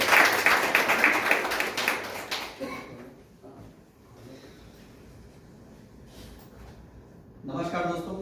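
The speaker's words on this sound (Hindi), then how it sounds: "एक जोरदार तालियां।" An audience at a company presentation claps loudly for a few seconds, then the applause fades into quieter background noise. A voice speaks near the end.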